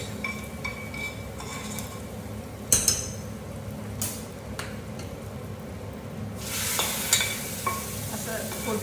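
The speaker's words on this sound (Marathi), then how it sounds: "छान अशी फोडणी तयार" Garlic tempering with asafoetida, chili powder, dried fenugreek and coriander sizzles softly in a pan for masoor dal, with occasional sharp clinks of a stirring spoon and a louder hiss swelling near the end.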